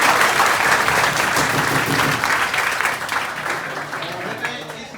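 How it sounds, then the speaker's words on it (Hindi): Loud crowd clapping at a live talk, dense and sustained at first, then gradually thinning and fading toward the end. "तालियां बजाकर बता दो"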